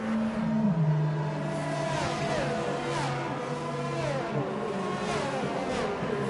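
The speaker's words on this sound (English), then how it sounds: "There's the safety car going around again." Race cars circling a track behind a safety car in a racing video game, engines droning and shifting pitch as several cars pass at moderate distance, a continuous layered hum with no talk.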